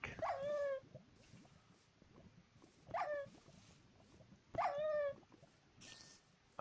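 Minecraft wolves give three short, high whimpering yips spaced a couple of seconds apart, fairly faint over a quiet game background with soft clicks and rustles.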